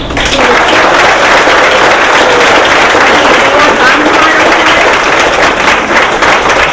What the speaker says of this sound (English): I just want a big round of applause for our honorees this year